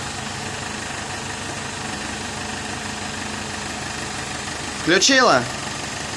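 A car engine idles steadily with a low, even drone and faint knocking while its automatic transmission is put into drive. Near the end a voice briefly asks a question over it.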